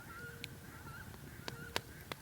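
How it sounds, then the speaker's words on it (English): Several short honking duck calls, sharp and nasal, scattered irregularly over a faint background hum in the woods. "Those ducks had a very weird sound."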